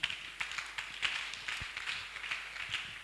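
A church congregation applauding the Lord during a sermon, dense and steady clapping from many hands with a few sharper claps standing out. It sounds fairly near and continuous, with no talk over it.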